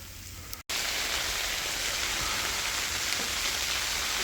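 Freezing rain falling steadily during a winter storm, a dense, even hiss of drops on surfaces that continues without a break, loud and close, after a brief dropout near the start.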